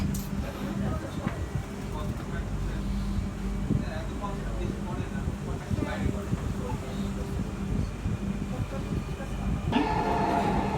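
Inside a Dhaka metro rail train between Karwan Bazar and Farmgate, a steady loud rumble and rolling wheel noise fill the car, with faint voices and a brief rise in sound near the end.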